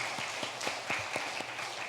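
Clapping from a church congregation during a sermon, a handful of distinct hand claps in a loose, uneven rhythm over a steady background hiss, moderately near and fairly quiet.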